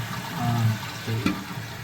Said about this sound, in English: So we'll just flush that out of there.